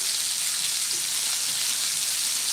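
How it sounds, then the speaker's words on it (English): Pork chops searing in a hot pan give a steady, even sizzle with a dense crackling hiss that holds at the same level throughout, close and alone, with no talking. "So we got a good little sear on it on each side"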